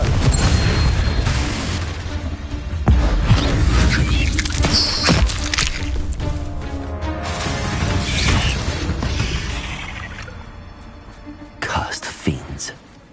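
Spell-blast explosions and magic effects in the Hogwarts Legacy video game, a busy layered mix of booming impacts, whooshes and mechanical clatter during combat, with bursts near the start, middle and end, with a voice speaking over parts.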